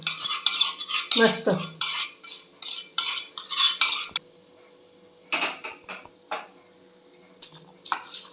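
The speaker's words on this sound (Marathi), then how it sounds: "चुरचुरीत अशी फोडणी करून घेते आहे." A sizzling Maharashtrian tempering (phodni) for ambedal, raw mango and chana dal salad, stirred in a pan with dried and stuffed chillies, giving bursts of scraping and crackling at close range, then quieter clinks, with a brief spoken word.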